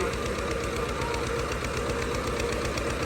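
A YTO mini tractor engine drives a 25 HP dynamo, giving a loud, constant rhythmic chugging and knocking with a dense rattling vibration that fills the whole stretch without pause.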